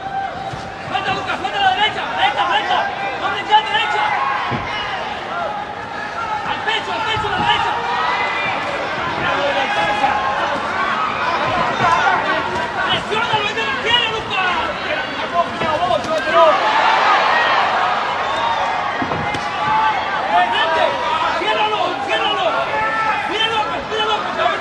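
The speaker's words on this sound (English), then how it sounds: "the crowd roars its approval of every landed punch" Boxing arena crowd at a Pacquiao fight roars approval at his landed punches, a sustained, swelling wall of cheering and hubbub that peaks briefly midway, running under continuous ringside commentary.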